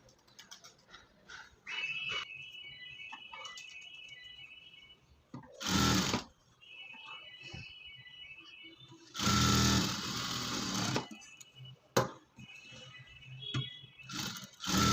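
A sewing machine joins the cross belt on a blouse in several bursts of loud rapid stitching. Between bursts come quieter pauses with a faint steady tone and small handling clicks.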